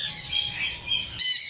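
A bronze wing pigeon gives harsh, raspy squawking calls at close range, two bursts in quick succession with a brief dip between them and no voices.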